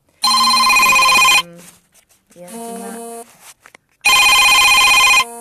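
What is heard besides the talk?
telephone ringing with an incoming call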